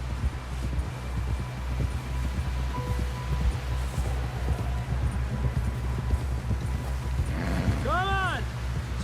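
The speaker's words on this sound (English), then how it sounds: "Someone help John down off this horse" Steady horse hooves clopping at a run through Red Dead Redemption 2, a continuous rhythmic beat held near and loud throughout, with a brief whinny-like harmonic cry toward the end.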